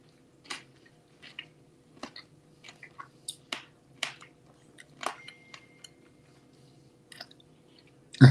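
Someone chews crunchy food close up, giving a series of irregular crisp crunches and moist squishes spaced a second or so apart, ending on a louder bite, with no talking.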